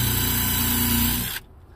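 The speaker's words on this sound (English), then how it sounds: "And you just countersink your gel coat." A power drill runs a countersink bit into boat gelcoat before driving screws, giving a steady, close whine for over a second that cuts off abruptly into quiet.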